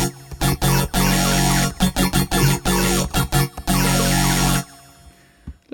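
A color bass synth patch built in Reason with a combinator, line mixer and subtractor plays loud, dense chopped chords in stuttering rhythmic bursts, then drops to a quieter sustained tail near the end.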